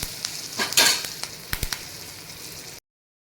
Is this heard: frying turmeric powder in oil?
yes